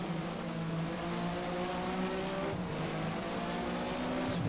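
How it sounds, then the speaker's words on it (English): Race cars in the Race07 game, Porsche Mobil 1 SuperCup at Valencia, drone together in a continuous layered engine whine, a pack of cars close together with steady high revs. "There's quite a train of cars there."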